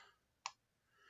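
A single sharp, quiet click from a computer mouse cuts through a near-silent background, with faint distant hiss around it.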